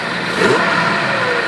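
A Predator small engine fitted with a carburetor idles steadily at low speed, a continuous near and loud mid-pitched engine drone with no voices.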